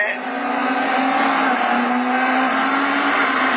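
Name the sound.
rallycross race cars starting, division 4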